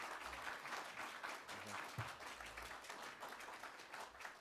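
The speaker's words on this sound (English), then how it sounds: "Please give him a round of applause," A convention audience gives sustained applause, dense, even clapping that runs for several seconds at a modest, somewhat distant level.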